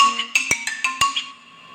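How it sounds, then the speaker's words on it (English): A phone gives an email notification, a quick run of several sharp electronic blips and clicks close up, fading into quiet. "That's my phone when it receives an email,"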